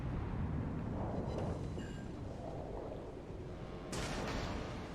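Italian battleship RM Roma in World of Warships Legends fires armor-piercing shells: deep, rumbling cannon booms roll out, fading into low distant rumble, then a sharp loud blast cracks near the end.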